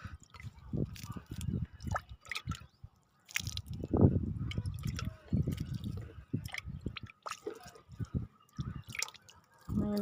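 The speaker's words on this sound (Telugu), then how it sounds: "నీళ్ళు ఇస్తే ప్రతి కొమ్మకి, చిన్న మొక్కే కాబట్టి" Water splashes and drips onto a small aloe vera plant and its soil, in soft irregular bursts with squishy wet sounds, close by, and a voice talks quietly in places.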